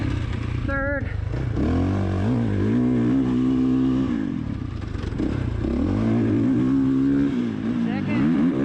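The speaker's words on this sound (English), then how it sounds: "Little bit of clutch. Hit the fourth. Slow engine braking." Vehicle engine with a manual gearbox, filmed on a GoPro, rising and falling in pitch through several gear changes from second to fourth and easing into slow engine braking, loud and steady throughout, with someone talking over it.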